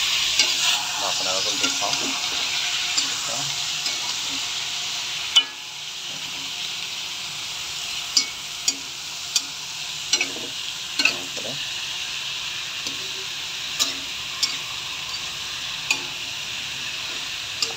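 Food frying in a pan, a steady close sizzle with regular clicks and scrapes of stirring, while a voice speaks briefly over it.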